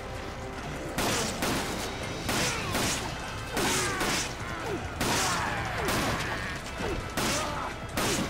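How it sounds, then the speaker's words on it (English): Machine gun fire in the Resident Evil: Desperate Escape video game, repeated loud bursts of rapid shots crashing in at regular intervals, close and harsh. "all I have left is a machine gun"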